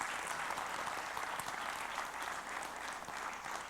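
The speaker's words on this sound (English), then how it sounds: "So give them a big round of applause." An audience at an astronomy talk applauds, producing a steady, even wash of many hands clapping at moderate distance that lasts throughout with no voices over it.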